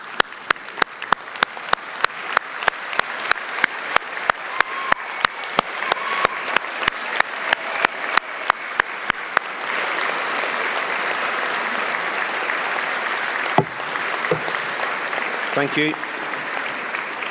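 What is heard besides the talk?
graduation audience applause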